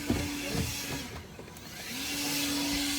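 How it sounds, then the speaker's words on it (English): A neighbor's leaf blower drones steadily at a distance, a low sustained whine that dips briefly midway and then resumes at an even level. "Quiet Wyatt and his blower."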